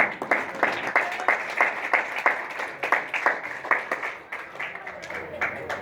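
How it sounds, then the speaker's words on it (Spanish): A church congregation claps in a brisk, fairly regular rhythm, moderately loud and close, lasting several seconds, with no talk over it. "Denle un fuerte aplauso al Señor, hermanos."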